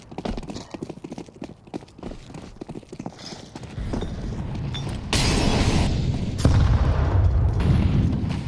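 Grenades going off in Counter-Strike during a MongolZ versus Falcons match, with heavy booming blasts swelling to a loud, sustained rumble in the second half over clattering in-game action.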